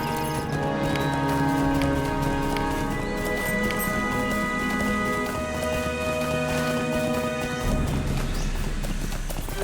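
A ridden horse mount in the online game Lord of the Rings Online clip-clops along at a steady gait, with rhythmic hoof beats and an occasional whinny over a layered game soundscape, fairly close and without talk.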